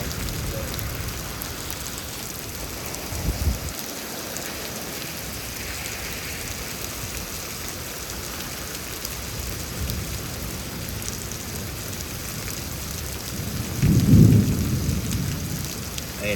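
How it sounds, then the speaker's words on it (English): Heavy rain pours steadily during a thunderstorm in Houston, Texas, a dense constant roar with low rumbles of thunder swelling near the start and again louder toward the end. "this is pretty high rainfall, total type of rain"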